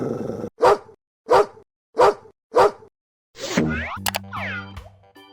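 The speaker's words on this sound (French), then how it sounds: "Écoutons le son du chien." A dog barks four times in an even rhythm, each bark sharp and close, followed by bouncy cartoon boing effects and a brief musical jingle.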